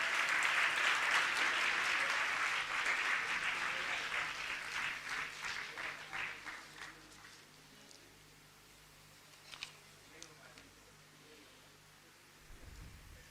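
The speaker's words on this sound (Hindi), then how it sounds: "तो लगातार तालियां बजती रहें।" Audience applause for a Delhi government school children's band and orchestra, a loud burst of clapping that fades gradually into scattered claps, then a few isolated claps and quiet room noise.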